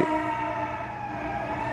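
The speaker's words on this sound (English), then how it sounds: "ambulance outside, not sure if you heard that." An ambulance siren sounds outside, a steady wailing tone heard through walls, continuous and fairly loud for the whole stretch with no talk over it.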